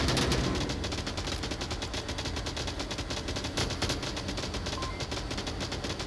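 Sustained gunfire in the tactical shooter Onward, rapid dense bursts of rifle and machine-gun shots rattling continuously and loudly for the whole stretch, with no talking over it.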